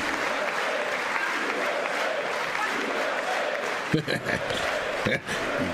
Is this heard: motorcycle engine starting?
no